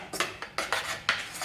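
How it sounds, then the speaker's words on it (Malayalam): Salted batter for sweet milk paniyaram being stirred in a bowl with a spoon, giving a few quick scraping, clinking strokes in short bursts, close and fairly quiet, with no talking. "നന്നായിട്ടൊന്ന് മിക്സ് ചെയ്ത് കൊടുക്കാം."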